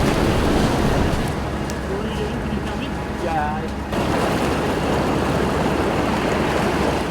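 A river rushing during a bikepacking crossing in Iceland, broad steady turbulent water noise with wind buffeting, and a brief faint tonal squeak partway through.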